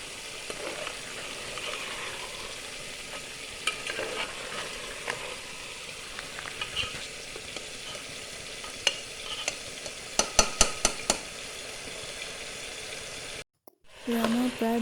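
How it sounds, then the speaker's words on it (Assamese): Potatoes and vegetables fry in a pressure cooker, giving a steady sizzle and rustle with intermittent stirring scrapes and a quick run of knocks near the end before a brief break. "এয়া মোৰ প্ৰায় ভজা হৈছে, লগতে মই আলুও দি দিলোঁ।"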